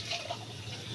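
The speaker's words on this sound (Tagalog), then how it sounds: "Lalagyan na ng tubig." Water runs briefly into a container while milk is being prepared for a child, a short close splashing trickle heard alone.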